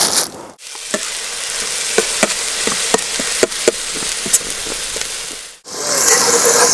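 Food sizzling in a pan over a camp stove, a steady frying hiss with scattered crackles and pops, cut off sharply near the start and again near the end.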